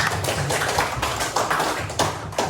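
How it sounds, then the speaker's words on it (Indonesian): Classroom applause from students during an Indonesian teaching practice lesson, a steady patter of many hands clapping with rhythmic bursts, fairly close and filling the room, with no talk over it. "beri tepuk tangan untuk teman-temannya"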